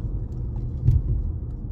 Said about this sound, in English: It's a school bus up in this joint.